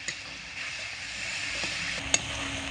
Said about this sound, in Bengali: এবারে সমস্ত মশলাপাতি একসঙ্গে একটু ভালো করে কষিয়ে নেব